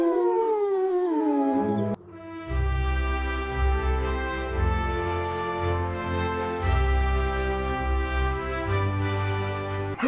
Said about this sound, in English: Chase lets out a joyful howl